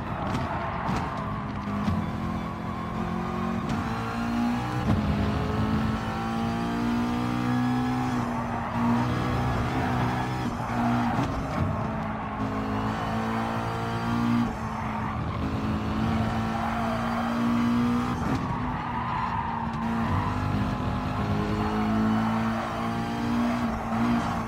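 Audi and McLaren race cars lapping Suzuka in Gran Turismo Sport, engines roaring steadily throughout with shifting pitch as they battle down the straight, plus occasional tire squeal, loud and close.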